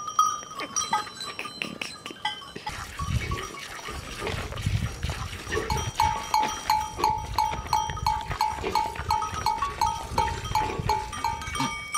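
Goats bleat repeatedly over a steady jangle of bells, with a rhythmic clanking building through the second half; outdoors on a mountain, fairly close.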